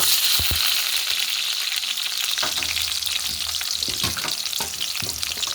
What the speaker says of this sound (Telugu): ఇప్పుడు మిగతా అన్నీ వేసేసుకుందాం మనం. ఇప్పుడు ఎర్రగడ్డ, ఆనియన్స్,